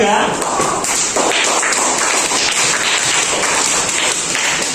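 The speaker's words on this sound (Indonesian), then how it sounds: "Tepuk tangan buat kelompok 3" Applause from a classroom of students for a presenting group during a lesson on prayer, uneven clapping with taps and thumps mixed with chatter and voices throughout.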